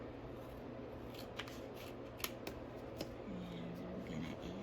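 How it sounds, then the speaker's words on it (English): Scissors snipping paper for a handmade monthly birthday organizer craft, producing a few short, crisp cuts spaced apart over a steady quiet room hum, close by and without speech. "I'm going to come and cut this about right here."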